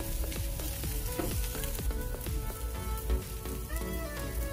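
Maggi noodles with vegetables, including shredded cabbage, frying street-style in a hot pan, giving a loud, steady sizzle with crackling pops and stirring scrapes throughout, no talk over it.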